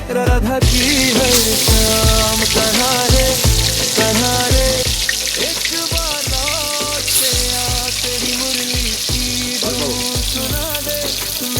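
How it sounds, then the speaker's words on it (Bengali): Katla fish pieces frying in hot oil in a kadai, a loud, steady sizzle and crackle running throughout with scattered clanks and knocks from the pan, no voices. "এখন কড়াইতে তেল দিয়া মাছ কড়ার মধ্যে কড়াইতে দিলাম"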